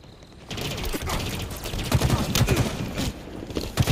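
Rapid bursts of gunfire in a shooter video game, aimed at a corpse, crackling volleys that come and go over a few seconds, fairly close and loud.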